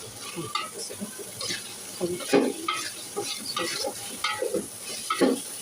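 Garlic fries in a pan with an uneven sizzle, broken by repeated scraping stirs and light clatters of a utensil against the pan.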